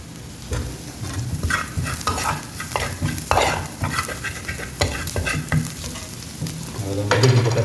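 A spoon stirs turmeric into okra gravy frying in a pan, giving repeated scraping strokes in an uneven rhythm over a steady, close sizzle.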